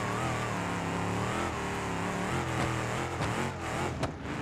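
A pickup truck engine in BeamNG.drive revs hard through its gears on a weak transmission, a loud continuous droning roar whose pitch rises and dips with each shift, close and steady throughout.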